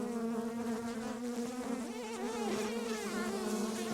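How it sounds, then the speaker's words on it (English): Honey bees buzz around hives in an apiary during mite treatment work, a steady close droning hum with wavering pitch that fills the whole stretch without any talk. "there's bees flying around me."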